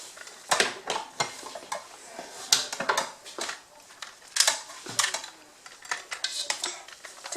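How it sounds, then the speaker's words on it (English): Cupcake batter whisked in a bowl, a run of quick metallic clinks and scrapes against the sides in uneven bursts, moderately close and unaccompanied by talk. "And then you whisk it."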